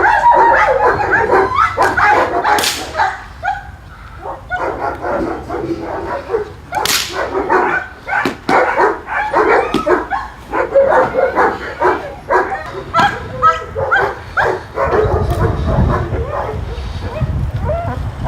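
A border guard dog barks and yips close by in a long, loud run of sharp barks, with a few whimpers and brief pauses, and a person speaks now and then.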